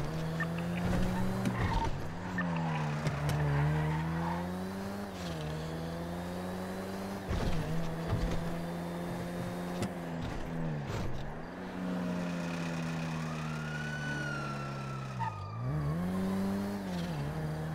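A car in GTA roleplay racing and sliding, its engine droning in long wavering tones that rise and fall with revs while tires squeal through turns, loud and continuous for nearly eighteen seconds, with little or no talk over it.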